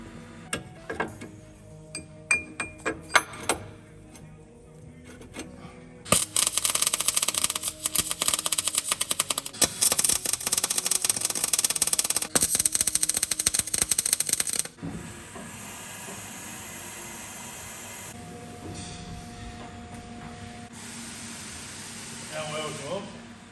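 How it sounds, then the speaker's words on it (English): Loud, harsh metal cutting screeches close by in a sustained burst as recovery points are cut out, preceded by clanking and clicks, then a quieter steady machine hum. "just cutting out some recovery points"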